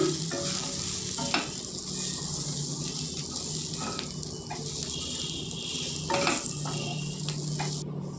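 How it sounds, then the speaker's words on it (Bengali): Spiced ivy gourd and potato frying in a pan, a steady sizzle running throughout with occasional scrapes and clinks of a spoon stirring the vegetables, close and moderately loud. "ভালো করে আবারও নেড়ে ছেড়ে কিছুক্ষণের জন্য ঢেকে দেবো"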